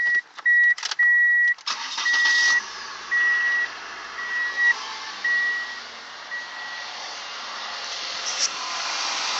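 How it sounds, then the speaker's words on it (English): A 1998 Ford Escort engine cranks and catches, then settles into a steady idle, with a few high electronic beeps chiming in the first seconds. "Start the car."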